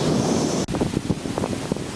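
Strong wind from a micro-burst thunderstorm roars in loud, buffeting gusts against the microphone, cutting out briefly before rushing back with rough, uneven surges.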